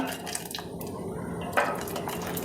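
Carrots drop into a pot of chicken soup with a soft splash and liquid drips, plus a light clink of a utensil against the pot, close and brief.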